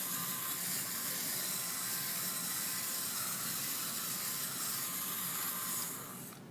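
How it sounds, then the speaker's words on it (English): An electric fabric shaver running gently over wool, a steady close buzzing hum with a fine rasping hiss that holds evenly, then fades slightly near the end as the blade lifts away. "So I just turn it on and just go gently over my wool."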